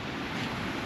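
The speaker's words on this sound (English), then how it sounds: "Reaching our waterfall." A waterfall by a lake gives off a steady, full rushing wash of falling water, close and continuous with no pauses or voices.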